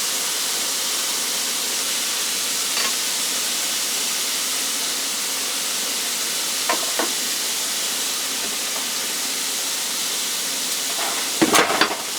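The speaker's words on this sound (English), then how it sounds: "Let's get the mushrooms in there frying." A steady, fairly quiet hiss of mushrooms frying in a pan, with a few faint clicks and a brief clatter near the end.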